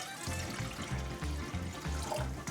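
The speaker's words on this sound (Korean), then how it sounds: "냄비에 물 1리터 넣어 주시고요" About one litre of water runs steadily into a pot for potato egg soup, a continuous splashing pour with a low, bubbling rumble underneath, close by and fairly loud.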